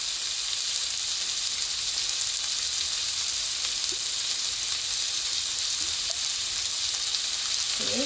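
Capsicum frying in oil in a pan for kung pao paneer, a constant close sizzle with a few faint stirring clinks, no talking.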